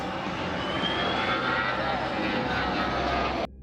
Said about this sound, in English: The plane you see here is the Airbus A319 flying quite close to another plane.